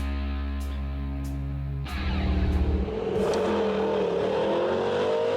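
Custom American muscle car, a heavy old Chevy hot rod, driving past: a deep steady engine rumble that swells into a loud revving roar about two seconds in, then fades to a rising whine as it moves away.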